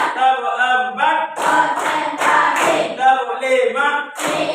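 A group claps along in a counted rhythm during a teacher-training session in Surabaya, with bursts of hand claps separated by short pauses as a voice leads the counting.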